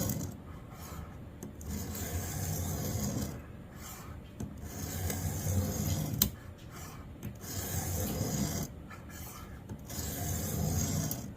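A knife blade rasps across the stone of a Xarilk Gen3 sharpener in repeated light sweeping passes, each a soft scraping stroke separated by short pauses, recorded close and fairly quiet.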